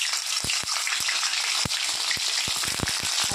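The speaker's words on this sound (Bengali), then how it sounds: "এবার কেটে রাখা পনিরগুলো আমি সব ঘিতে দিয়ে দেবো।" Paneer pieces fry in hot ghee in a kadai, giving a steady close sizzle with scattered sharp crackles and pops across the few seconds.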